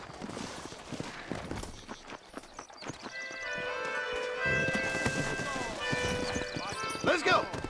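Horse hooves clip-clop steadily with a neigh, alongside game music tones and a voice speaking over the scene.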